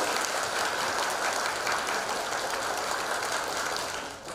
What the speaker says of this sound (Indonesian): boleh kita berikan tepuk tangan yang paling meriah terlebih dahulu.